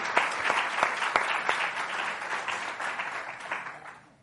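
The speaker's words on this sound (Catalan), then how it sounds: "el primer que hauríem de fer és aplaudir per les" An audience at a public-administration conference closing session applauds, with a few sharp claps standing out at first before the clapping settles into an even patter and fades toward the end.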